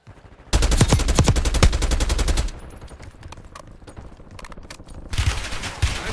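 Automatic gunfire rattles in the video game Black Ops 6 in fast, loud, close bursts for about two seconds, gives way to quieter scattered shots, then returns with another heavy burst near the end.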